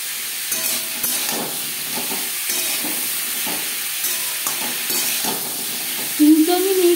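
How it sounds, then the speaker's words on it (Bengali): Papaya with salt and turmeric stirred in a frying pan over a gas flame, a steady loud sizzle and hiss with repeated scraping strokes, ending in a brief clatter. "তিন 4 মিনিট নাড়াচাড়া করে নেব।"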